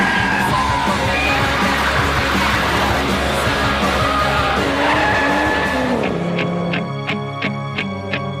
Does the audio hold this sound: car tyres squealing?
yes